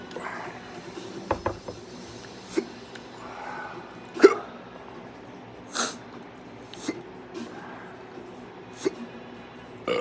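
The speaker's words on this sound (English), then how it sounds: "There's the hiccups." Repeated hiccups from someone after eating a Ghost Scorpion pepper, about half a dozen sharp, close jolts spaced irregularly over quiet room tone.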